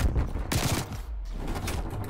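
Krig 6 assault rifle fire in a first-person shooter game, a couple of sharp loud bursts of shots over a dense background of game noise and distant gunfire.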